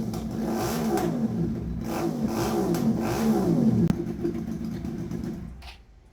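A QJ Motor motorcycle fitted with a custom-built stainless steel full exhaust revs hard in loud, repeated throttle blips with a rough, burbling tone, then settles and fades toward the end.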